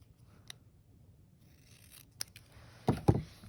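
Scissors trimming a paper collage cutout at close range: a few faint isolated snips, then two louder, sharper cuts near the end, all set in quiet with no talking.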